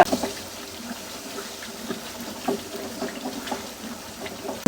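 Water poured into a pot of spicy chicken curry with potatoes, a soft steady splashing and trickle close by, lasting a few seconds with faint clatter.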